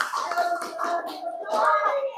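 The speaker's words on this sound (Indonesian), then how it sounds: "Beri tepuk tangan untuk Faid" Scattered, light clapping from a small group of children in a school classroom, welcoming a student volunteer, mixed with young voices talking over it.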